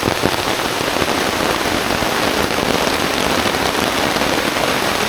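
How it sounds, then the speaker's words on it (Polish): Heavy rain pours down in a forest during a storm, a dense and loud steady hiss of drops drumming on surfaces with no voices. "Rozpętała się całkiem spora burza."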